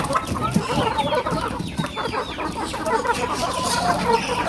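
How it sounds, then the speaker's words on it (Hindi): Aseel hen clucking in a laying-hen manner, a steady run of close, repeated clucks and squawks with other farm birds faintly around. "जिस तरह मुर्गी अंडा देने के लिए बोलती है उस तरह बोलने भी लग गई है"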